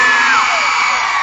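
A crowd at a Bihu stage show in Sorbhog shouts and whoops in a loud, continuous wash of voices, with a rising and falling whoop over the top.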